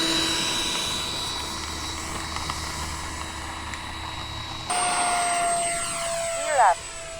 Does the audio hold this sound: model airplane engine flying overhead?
yes